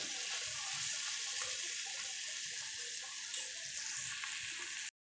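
Cauliflower and pointed gourd frying in hot oil in a pan, a continuous bright sizzle holding steady throughout before cutting off abruptly at the end; no talking.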